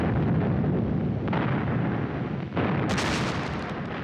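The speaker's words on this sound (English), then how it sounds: "Stalin ordered 12 124-gun salvos and a barrage of fireworks in Moscow's Red Square" Heavy 124-gun artillery salvos fired in Moscow's Red Square to celebrate wartime victories, a dense rolling rumble of booms merging together, loud and sustained with a sharp new burst near the end.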